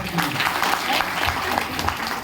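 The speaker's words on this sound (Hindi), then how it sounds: "जोरदार ताली उसी मैम के लिए, जोरदार।" Audience applause at an event honouring a guest, a dense continuous patter of many clapping hands, fairly loud and close, with a voice speaking faintly beneath it.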